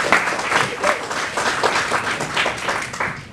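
Audience applause at an SPCA Tampa Bay shelter donor brunch; steady, fairly close clapping from a modest crowd that lasts throughout without fading.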